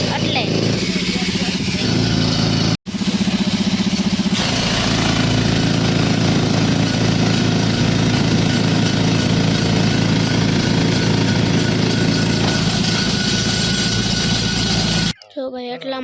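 A loud engine-powered machine runs steadily and close for most of the clip, with a rough pounding hammer-like rhythm, briefly cutting out near the start and stopping near the end; people talk over it.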